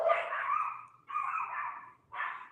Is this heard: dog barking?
yes